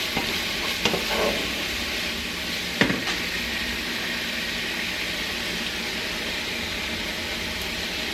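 A chili dog casserole mixture with Worcestershire sauce being stirred in a hot pan, giving a steady close sizzle with a couple of brief scraping knocks from the spoon.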